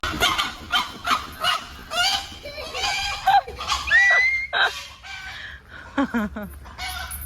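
Chickens and a rooster at a temple in Thailand squawk and cluck in agitated bursts close by, with short crowing-like calls mid-clip, while people shout and talk around them.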